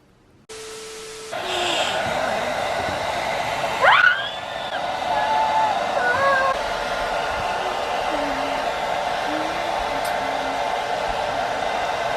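A hair dryer blows steadily on a dog after grooming, a loud continuous broadband whoosh that starts abruptly and runs throughout, with brief squeaky whines and shifting tones layered over it.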